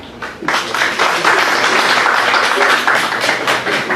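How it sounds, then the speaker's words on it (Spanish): An audience at a humanities and law university forum applauds to welcome a doctor taking the floor: dense, steady clapping that swells after a soft start and holds loud and close throughout, with faint voices mixed in. "recibámoslo con un aplauso"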